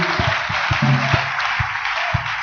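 Church congregation applauding in a steady, wide wash of clapping, fairly loud and sustained, with faint low beats underneath.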